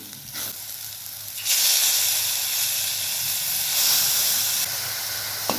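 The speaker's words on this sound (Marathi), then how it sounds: "एकदम बारीक गॅसवर आपल्याला इथं छान असं दही पूर्ण आटायपर्यंत परतून घ्यायचं आहे" Green chillies and curd sizzle in a pan over a very low flame, a steady close hiss that swells louder after the first second and holds evenly, with no voices.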